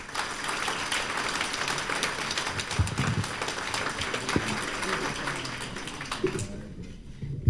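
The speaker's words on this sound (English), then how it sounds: "So let's give them a big round of applause." A conference audience applauds a security panel with sustained, dense clapping that carries on evenly for several seconds and drops away abruptly at the end.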